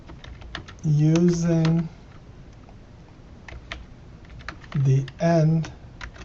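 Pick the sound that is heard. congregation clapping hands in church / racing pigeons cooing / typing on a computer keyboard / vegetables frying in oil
typing on a computer keyboard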